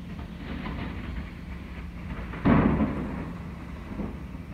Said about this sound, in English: I don't know if the phone is picking up the sound of thunder, but it's really loud.